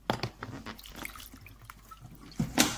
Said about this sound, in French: je vais rajouter de l'eau